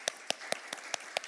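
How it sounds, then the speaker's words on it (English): Audience claps for conference panelists at an ocean solutions event, a sparse run of about six sharp, evenly spaced claps, close and clear with no talk over them. "Let's give a big round of applause for these great panelists."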